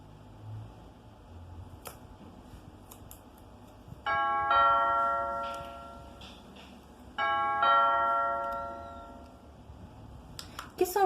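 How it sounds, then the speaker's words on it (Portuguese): A household doorbell rings twice, each a loud ding-dong chime with ringing tones that decay, separated by a few seconds of quiet room noise. "Foi o som da campainha."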